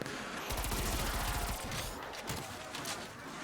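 Sustained rapid MP5 fire in Call of Duty Cold War Zombies at round 38 with a tier 3 pack-a-punch, a dense loud burst of shots that starts after half a second and continues with scattered game effects.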